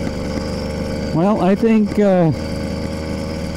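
A motorized bicycle engine idles with a low hum, then revs up and down sharply for about a second, before settling back to idle. Someone speaks briefly.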